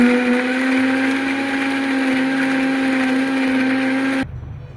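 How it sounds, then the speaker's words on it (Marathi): Mixer grinder blending cooled chutney batter for dosa, a loud steady electric whine with a strong motor hum, running evenly before cutting off abruptly near the end, leaving only faint background noise. "ते आपण मिक्सरला बारीक करून घेऊया"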